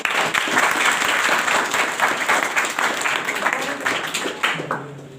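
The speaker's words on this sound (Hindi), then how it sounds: "आप लोग ताली बजाएंगे और इस बच्ची को हम प्रोत्साहित करेंगे।" A crowd at a coaching center prize distribution applauds a student, dense clapping that stays loud and full before thinning out and fading at the end.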